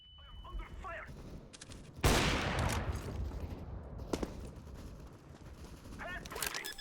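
Gunfire in the video game Counter-Strike: bursts of shots and a loud blast, then continuous rattling fire with sharp individual cracks, dense and close, with faint speech mixed in.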